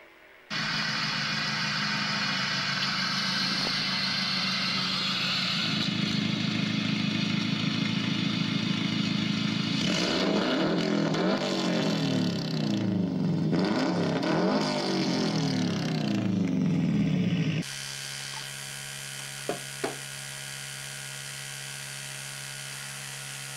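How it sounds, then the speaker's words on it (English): A car engine idles and then revs as the car is moved out of the way, giving a steady, buzzing hum that climbs and shifts in pitch before settling to a quieter idle, with no talking. "so he decides to move a car out of the way so she can park."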